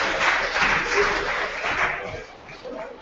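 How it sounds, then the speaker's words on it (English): Scattered audience clapping at a student union elections Q&A, moderately loud and fading toward the end, with some murmur beneath. "a round of applause for Lola"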